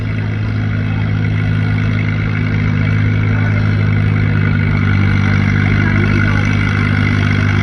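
At a Farmall versus John Deere tractor pull, a tractor engine holds a loud, steady, throaty roar at close range, running evenly with only slight swells in level and no voices over it.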